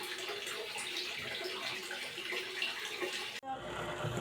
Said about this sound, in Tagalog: Naiwanan bukas ang gripo.